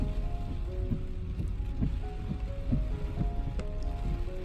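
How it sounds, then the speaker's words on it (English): Rain patters steadily on a car while a low engine hum drones beneath, with soft repeated swishes of windshield wipers at an irregular rhythm. "the rhythmic swish of the wiper blades and the patter of rain"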